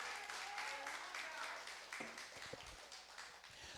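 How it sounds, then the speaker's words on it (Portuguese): Church congregation applauding during a worship service, a burst of clapping that thins out over a few seconds, with a preacher's voice speaking over it. "aplauda ao Senhor"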